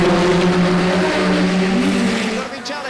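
A Lotus 15 race car engine drones loud and close from onboard at Goodwood Revival, a sustained harmonic roar with shifting pitch, easing off toward the end; a commentator's voice runs beneath.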